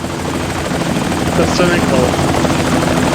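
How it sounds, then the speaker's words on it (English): A helicopter's steady rotor and engine roar fills a cutscene in the Indiana Jones and the Infernal Machine video game, loud and continuous, with a voice talking over it. "that's the helicopter"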